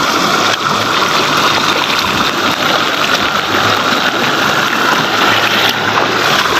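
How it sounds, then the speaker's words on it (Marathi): Streams overflowing with floodwater in heavy rain make a loud, continuous roar of rushing water mixed with the hiss of the downpour, steady and close throughout with no talk. "हे सर्व ओढे नाले भरून वाहत आहेत"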